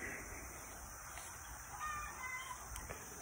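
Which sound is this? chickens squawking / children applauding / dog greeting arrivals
chickens squawking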